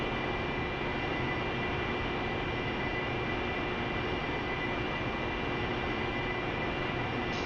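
An aircraft engine in a flight simulator game drones steadily and loudly with no break, a constant jet-like roar as the plane cruises near 300 knots.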